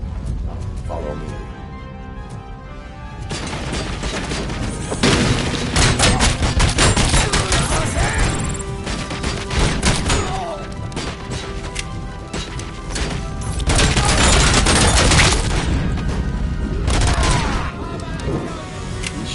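Gunfire in the video game RoboCop Rogue City, with heavy overlapping shots, crashes and impacts packed into a loud, continuous firefight that swells and eases in waves over almost twenty seconds.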